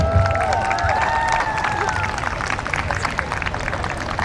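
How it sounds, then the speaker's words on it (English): Crowd at a political rally against US militarism breaks into applause and cheering, a dense wash of clapping mixed with shouts and a few whistled tones, loud and continuous throughout. "Please give her a round of applause again."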